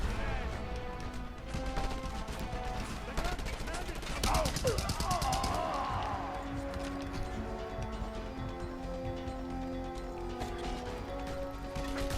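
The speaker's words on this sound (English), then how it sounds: "This move I call just using a gun appropriately" Rapid gunfire in Just Cause 2, with a dense rattling burst and crashing impacts near the middle over a steady background of game noise, and a voice speaking over the action.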